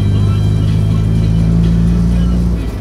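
Volkswagen Gol Quadrado engine running loud and close with a steady low hum that stumbles and misfires during gear changes.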